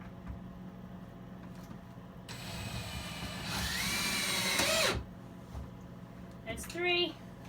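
A power drill drives a screw into a bed and storage frame in a Ford E-Series van conversion, running in a steady whine for a couple of seconds that strains higher before stopping, with a brief whirring burst after.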